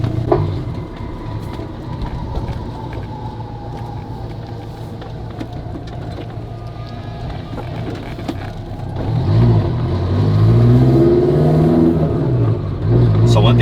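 A tuned 2022 Honda Civic Si engine rumbles and revs loudly, building in intensity toward the end, with a deep low growl throughout.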